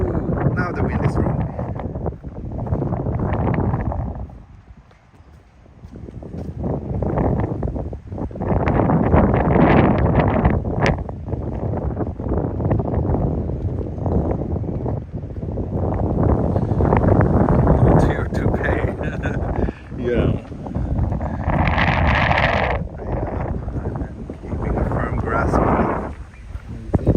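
Gusty wind buffets the microphone during a morning walk through Futakotamagawa and Todoroki Ravine in Tokyo, loud low rumbling bursts that swell and fade across the stretch, with someone talking intermittently beneath.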